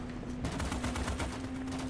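Sustained rapid turret fire from the Starship Troopers: Extermination video game, a dense, fairly quiet stream of shots running over a steady background hum with no gaps.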